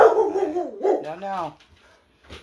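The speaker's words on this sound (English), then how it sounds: "Oh, these two dogs out here." Two dogs outdoors near a juniper tree, with a voice talking over most of the stretch and brief yips or barks breaking through, then a short faint bark near the end.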